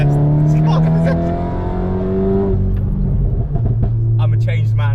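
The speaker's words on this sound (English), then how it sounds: "The 2-litre engine can sound good." A stage 3 tuned VW Golf R Mk7 with its 2-litre engine revs hard nearby, a rising drone that climbs then drops and settles, with people talking over it.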